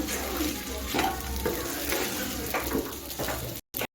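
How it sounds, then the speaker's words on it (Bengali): Sabudana khichdi is stirred and fried in a pan, giving a continuous close sizzle with rhythmic scraping strokes of the spoon, before the sound cuts out abruptly near the end. "সাপুরটা সব কিছুর সঙ্গে ভালো করে দু মিনিট নেড়ে তেড়ে রান্না করে নিচ্ছি"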